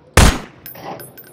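A single loud, sharp gunshot from the Garry's Mod Prop Hunt video game cracks out close and sudden, followed by a quick fading rattle and a few faint clicks.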